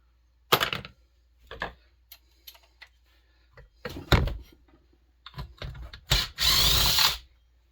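Impact driver taking apart a Pioneer NU-17 speaker, with short separate bursts of clattering hammering and tool noise and a longer whirring run at the end, all close and fairly quiet.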